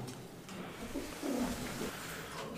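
Lahori fancy pigeons at a pigeon farm in Natore give faint, low coos, with a brief swell near the middle against a soft, noisy background.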